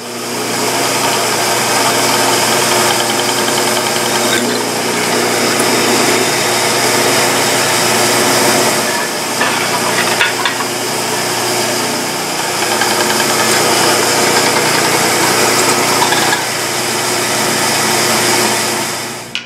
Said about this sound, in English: We're going to drill through this and into this.